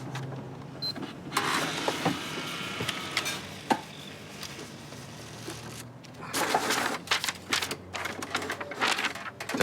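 A printer runs in mechanical bursts, with whirring feed noises and sharp clicks and clacks, pausing briefly before a busier stretch of rattling activity.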